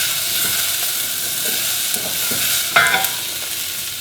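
Spices cook off in a hot pan for a spiced celeriac soup, hissing and sizzling steadily up close, with light stirring scrapes and a sharper burst of crackle near the end.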